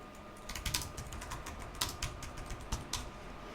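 Text being typed on a computer keyboard, a close run of quick, uneven key clicks over a faint steady hum, with no voices.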